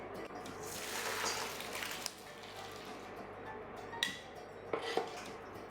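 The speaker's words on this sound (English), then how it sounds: "I'm just going to go ahead and drain it and then rinse it in cold water and then keep it aside" Cooked pasta drained and rinsed under cold running water in a home kitchen, a steady wash of flowing water with a few sharp clinks of a pot or colander near the end, no talk.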